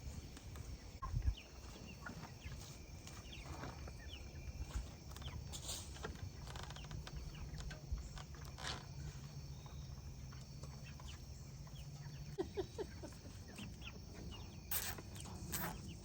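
Faint chickens cluck sporadically in the distance over a steady background hum, with scattered brief sharp noises.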